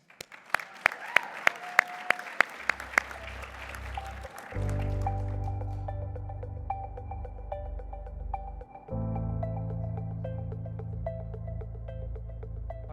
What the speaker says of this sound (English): A big round of applause for the Principal Product Manager for Spiff, Chase Evans.